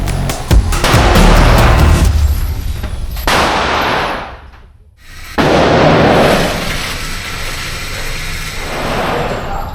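Rounds fired at an indoor shooting range, a rapid series of loud, sharp reports with echoing tails, a short lull, then further close bursts that ring out before settling into a sustained noisy wash.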